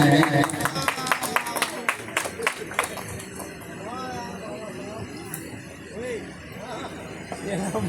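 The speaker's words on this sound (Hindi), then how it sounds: "जोरदार ताली बजाएं।" Audience applause at a village bhajan singing competition: a burst of crowd clapping for the first few seconds, then the claps fade into murmuring voices and a person speaking.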